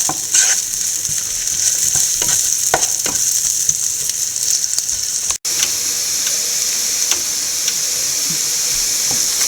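Onions sautéing with salt in a pan for a Kerala drumstick and egg thoran, a steady sizzle broken by repeated clicks and scrapes of stirring, close and continuous with no voices.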